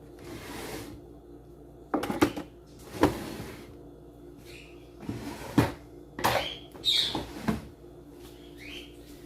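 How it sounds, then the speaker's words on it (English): Several knocks and clatters of utensils being set into a drawer, with a few sliding and bumping sounds, faint birdsong in the background. "And some utensils. Just go in the drawers here."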